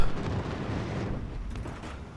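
A bomb drop strikes a battleship in the naval combat game World of Warships Legends, giving one loud, close explosive burst with a rumbling low boom that slowly fades over about two seconds, with no talk.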